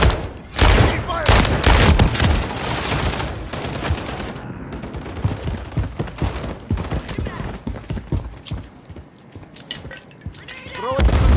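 Rapid bursts of automatic gunfire and single shots crack and boom in the Warzone video game, dense at first and then more scattered, loud and close with no talking.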